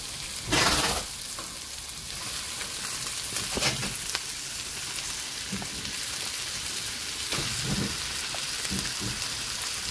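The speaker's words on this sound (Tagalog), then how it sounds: "Ilagay na po natin ang isda." Salmon fries with onions in a pan for adobo, a constant loud sizzle like rain with a few bursts of crackling and stirring scrapes along the way.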